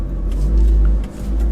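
A Mitsubishi Lancer Evolution VIII pulls away on the road, a loud, deep engine rumble heard from inside that swells briefly, then dips and recovers.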